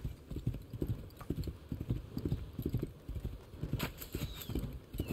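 Horse hooves clip-clopping in a steady galloping rhythm in the video game Assassin's Creed Valhalla, continuous and fairly close, with faint game ambience behind.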